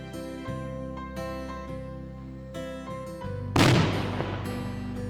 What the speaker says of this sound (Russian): Это была пушка, которая стреляет каждый день в 12 часов дня.